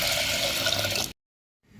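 Water poured into a pressure cooker holding black-eyed peas, a loud close rushing pour lasting about a second before stopping abruptly into silence.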